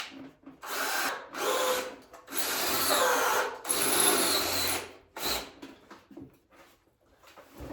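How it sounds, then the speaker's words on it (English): Power drill cutting through 516-70 steel plate, the motor whirring in several long loud bursts separated by short pauses, close and alone without talk. "I'm always shocked how easy this 516-70 steel drills."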